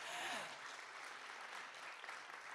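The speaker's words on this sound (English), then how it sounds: "applause." Faint, distant audience applause for artist Hank Willis Thomas at an architecture talk, a brief steady wash of clapping with a voice trailing off at the start.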